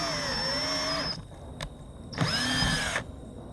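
Two short bursts from a power drill driving a self-tapping screw to mount a back-up camera on a vehicle roof, the motor whining up and down with a brief gap between the runs.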